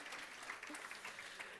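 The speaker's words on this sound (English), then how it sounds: "give them a little round of applause" Audience applause at a women in science and engineering luncheon, a short, faint burst of clapping heard from a distance in a room, with some murmur mixed in.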